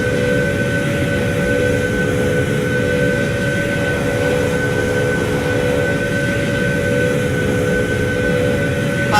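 Airplane engines roar steadily during takeoff from a runway in the Roblox Flightline game, a continuous loud drone with a sustained tonal hum throughout and no voices.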